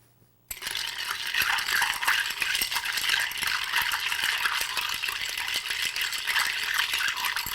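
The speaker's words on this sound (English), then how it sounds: "And stir to chill." Ice cubes rattle and clink continuously as a cocktail is stirred to chill it, a close, bright, steady jingle that starts abruptly after a moment of quiet.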